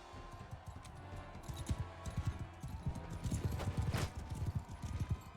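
Horse hooves clip-clopping in the Mount and Blade II: Bannerlord video game, a rapid galloping rhythm of thuds throughout, fairly close with faint game ambience behind and no clear talk.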